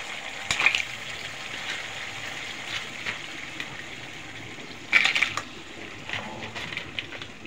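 Crabs fry in spiced oil in a pan, giving a soft, continuous sizzle with scattered crackles and a few sharper pops or clinks, fairly quiet throughout.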